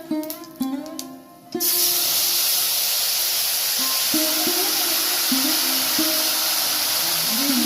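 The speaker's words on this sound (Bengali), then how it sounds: "এবারে আমি আস্তে আস্তে সব মশলা বাটাটা দিয়ে দেবো" Ground spice paste going into a hot pan for doi katla, a fish curry, setting off a loud sudden burst of sizzling that then hisses on steadily, with a few faint utensil clinks.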